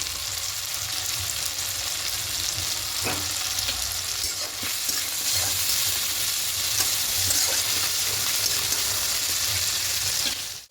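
Onions and tomatoes fry in a pan with a steady, loud, close sizzle that runs unbroken, and occasional stirring scrapes sit on top of it.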